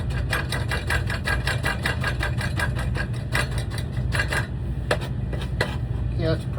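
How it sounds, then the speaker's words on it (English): Rapid, even knife taps as a chef knife finely chops scone mix for lemon blackberry scones, a steady close rhythm that loosens into a few scattered strikes near the end. "take our chef knife. Just going to chop it down to a finer"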